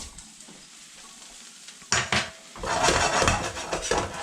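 Black beans frying in a pan, with loud sizzling, scraping and clattering stirring against the pan that starts quietly, then grows busier and louder.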